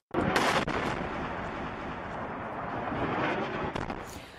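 A deep, roaring blast from bombs in an airstrike rumbles continuously for several seconds, with heavy low booms and crackling debris, loud and close, with no voices.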